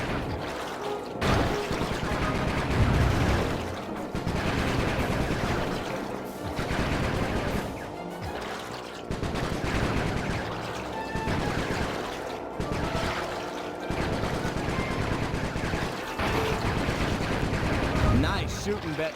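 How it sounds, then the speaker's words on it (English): Rapid bursts of gunfire and blasts from the Sly 3 video game, loud and nearly continuous, mixed with game music and effects, with a voice speaking at times. "Nice shooting, Bentley."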